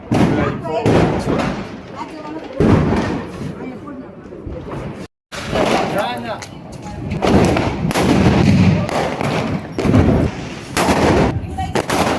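Loud Diwali firecrackers burst repeatedly in quick, uneven succession, sharp bangs close by with voices mixed in between the blasts.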